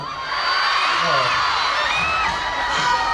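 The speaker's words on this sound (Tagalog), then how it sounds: "malakas talaga ang sigawan ng mga tao dito" A crowd shouts, whoops and cheers at a Philippine friendship festival, a loud continuous roar of many voices with individual yells rising above it throughout.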